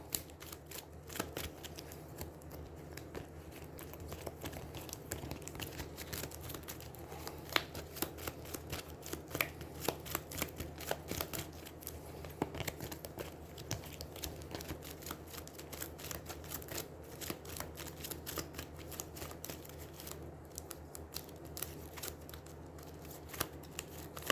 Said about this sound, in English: So I take these, the 4 quarter cards, the 4 room cards, shuffle them up